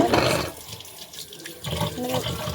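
Tap water runs into a kitchen sink while dishes are washed, a steady splashing rush that is strongest at the start and end and dips quieter in the middle.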